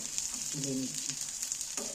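Boiled eggs fry in oil in a pan, a steady, close hiss of sizzling with brief faint tonal sounds over it.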